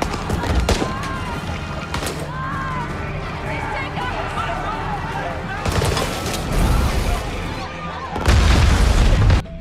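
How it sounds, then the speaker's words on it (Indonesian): Heavy booming blasts of an aircraft exploding in a film erupt amid a dense roar of crackling and rumbling, with a strong burst near the middle and another loud one at the end. "Pesawat yang akan mengangkut orang-orang terpilih tersebut meledak dan membakar pesawat lain."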